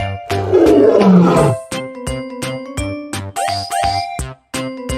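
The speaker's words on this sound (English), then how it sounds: "I am tiger." A tiger gives a single deep, powerful roar of over a second near the start, followed by a light musical backing.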